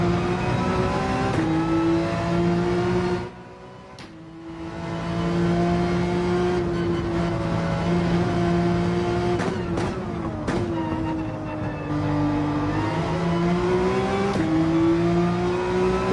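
A race car engine in Gran Turismo 7 online racing drones steadily at high revs, dipping briefly as it lifts off and shifts, then climbing and holding pitch, loud and continuous with no talk.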